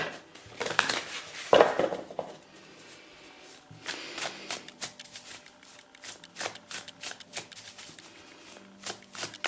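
Tarot and oracle cards shuffled and handled in a love reading, with a louder burst of shuffling early on, then a run of soft, rapid card flicks and taps close by.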